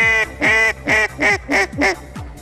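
A Buck Gardner Fowl Mouth II duck call blows a series of five or six harmonic, descending quacks in a steady rhythm, loud and close, imitating a hen mallard.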